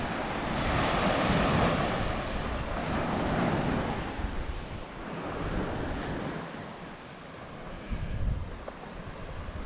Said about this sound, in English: This is our reward for our walk through the woods. This beautiful beach.